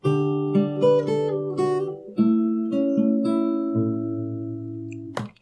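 A solo fingerstyle acoustic guitar plays the next phrase of a song from Barfi, with a few plucked notes, then sustained ringing chords that fade out near the end. The playing is close and clear, with no voice.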